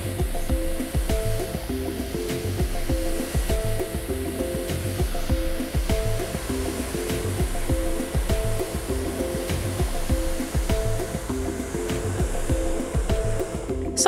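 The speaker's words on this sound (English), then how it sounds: "The blow dryer that I'm using has a strong engine" An OBH Nordica hair dryer with a strong motor blows steadily and loudly throughout while drying hair, a constant whooshing roar with a faint motor hum, no voices.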